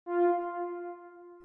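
Spring reverb effect in Ableton Live 11 applied to a single sustained synth-like tone, a bright harmonic note ringing with a slight springy wobble and gently decaying over about a second and a half, heard alone.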